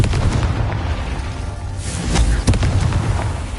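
Casting Confringo in Hogwarts Legacy sets off a fiery blast: a loud rumbling boom with sharp crackling bursts partway through, over a constant low roar.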